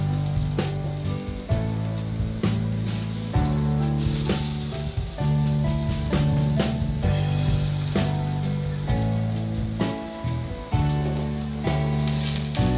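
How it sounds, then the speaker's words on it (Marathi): Methi vadi fry in hot oil in a pan, giving a loud, continuous sizzle with bursts of crackling and occasional stirring scrapes, close and without talk. "दोन चमचे तेल गरम करून त्यामध्ये या वड्या भाजून घ्यायच्या आहेत।"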